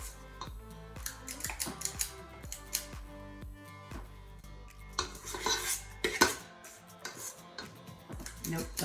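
Spatula scraping chocolate peanut butter cookie cup batter from a bowl, close and fairly quiet, a run of irregular scrapes and clinks against the bowl with light tapping.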